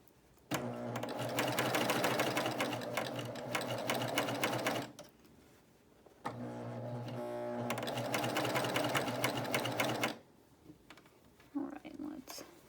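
Close up, a BabyLock Euphoria coverstitch machine stitches in two long, steady runs separated by a brief pause. Its fast mechanical whir stays loud and even, and faint sounds follow at the end.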